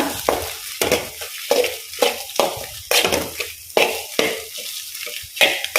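Fried garlic being stirred into an egg curry in a pan, a series of rhythmic, close scraping stirs over a light sizzle, repeating roughly every half second.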